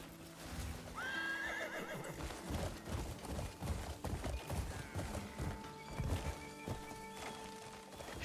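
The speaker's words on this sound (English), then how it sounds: "Come here, horsey." A horse whinnies loudly near the start in the video game Crimson Desert, then hooves clip-clop in a steady rhythm through the rest, close by over ambient game sound.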